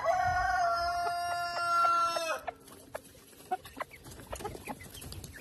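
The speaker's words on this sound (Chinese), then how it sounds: "看看猪叫鸡现在还会不会叫它的宝宝吃饭？" A mother hen makes rapid, insistent clucking calls to summon her chicks to food, close and loud at first, then giving way to quieter scattered pecks and chirps.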